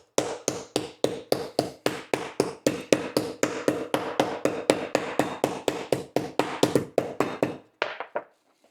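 Slices of beef are pounded thin for German rouladen: a rapid, steady series of about thirty sharp, close thuds from a meat mallet, evenly spaced and loud with no talking, then a brief pause and a final couple of hits.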